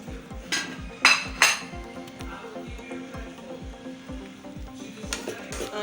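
Fried rice stirred in a pot on very low heat, a spoon scraping the bottom in a steady rhythmic pattern with a few louder metallic clinks, close and clear, under a soft sizzle.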